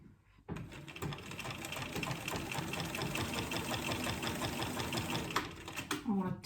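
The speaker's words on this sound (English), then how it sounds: "when I'm basting the sides I have it on a long stitch length." A sewing machine basting the sides of a tote bag on a long stitch length, running in a steady rapid mechanical chatter close by for several seconds before stopping, with a voice speaking faintly under it.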